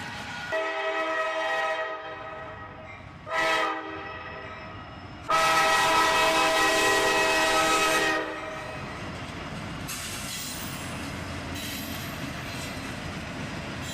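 A freight train at dawn in early December, led by three locomotives with an SD40-3 trailing, sounds its horn in three blasts, two short and one long, then rumbles past steadily and fairly loud.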